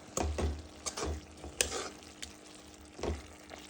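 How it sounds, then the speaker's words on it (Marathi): A spatula stirs spring onion bhaji in a pan with a handful of sharp scraping strokes spaced a second or so apart over a soft background sizzle, close by. "आता आपण त्याला एकदा उलथाने देऊ"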